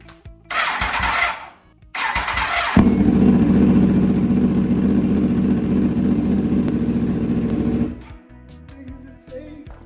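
A Yamaha R1S sport motorcycle engine cranks, briefly catches, then starts and settles into a loud steady idle for several seconds before shutting off.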